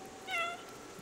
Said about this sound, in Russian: нажмите левый Alt, чтобы мявкнуть